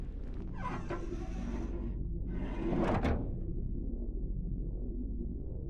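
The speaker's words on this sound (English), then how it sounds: "Working the winch will open the door." A winch mechanism in the video game Return to Grace cranks open a heavy door, giving grinding, scraping rumbles in two passes over a low steady hum.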